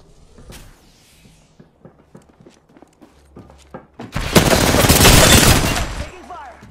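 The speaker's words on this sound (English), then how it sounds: "Taking fire." Apex Legends gunfire: light ticks and taps first, then a loud, sustained burst of rapid automatic fire lasting about two seconds, near and dominant.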